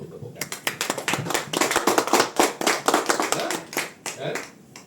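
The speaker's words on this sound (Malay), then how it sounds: "Satu tepukan." A group claps at a business presentation, sharp and fairly close, in a series of distinct, uneven hand strikes with short gaps between bursts.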